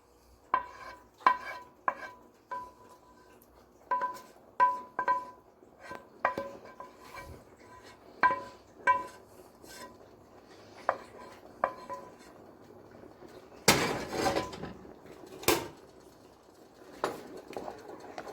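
A utensil scrapes and clinks against a cooking pan as food is mixed, giving irregular metallic taps with ringing tones and a louder scraping burst near the end, close and alone in a quiet kitchen.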